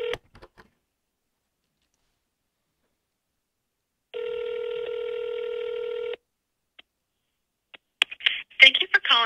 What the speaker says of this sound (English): I'm just going to dial, try to get someone on the phone here.